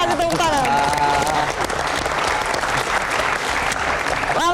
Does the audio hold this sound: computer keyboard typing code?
no